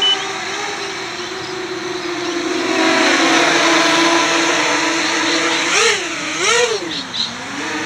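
An Armattan hexacopter drone hovers near the microphone with its motors at about 70% throttle, a loud, steady high-pitched electric whine that holds for several seconds, then swoops up and down in pitch as the throttle changes.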